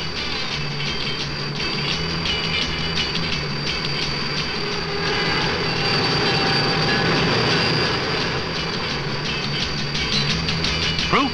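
A CN Turbotrain runs along the rails, a sustained rumble of wheels with a high steady whine and faint rhythmic clicking, and the sound swells slightly midway before easing.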